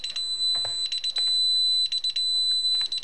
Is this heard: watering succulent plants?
no